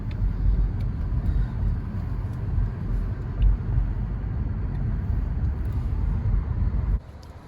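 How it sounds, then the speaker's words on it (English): A car driving down a road at night in Los Angeles, giving a steady low rumble of engine and tyre noise from inside the cabin that cuts off abruptly near the end. "Driving down this creepy road now."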